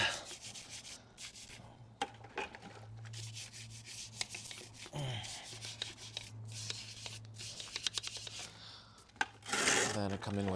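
A wheel brush scrubs the wheel and brake caliper of an Audi SQ5 during a wash, with close, uneven rubbing and scraping strokes and a few clicks.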